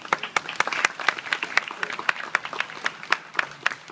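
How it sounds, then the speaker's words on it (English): A crowd at a zoo sea lion show applauds in scattered, uneven claps that rise and fall, moderately loud, with some voices mixed in. "she does love to hear you guys applaud"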